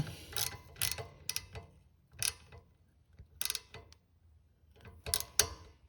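A wrench clicks in short ratcheting bursts while tightening the kickstand foot bolt on a Honda Trail CT125 motorcycle, with close separated clusters of metallic ticks and quiet pauses between them.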